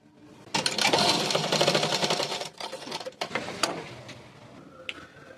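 Sewing machine running in long steady bursts while stitching darts on a collar blouse, with brief pauses and a final short whirr; close and fairly loud, no talking.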